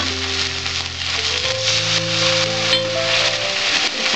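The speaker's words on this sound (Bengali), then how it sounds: "আমি একটুখানি মশলাটা কষিয়ে নিলাম।" Spice masala with garlic sautéing in a pan for ghugni, a loud, continuous close-up sizzle over a faint low steady hum.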